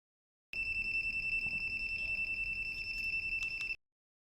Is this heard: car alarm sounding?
yes